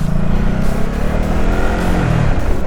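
A Ducati Supersport 950 motorcycle's engine drones loud and close while riding, a continuous low rumble with rising and falling pitch as the revs change, with wind noise throughout.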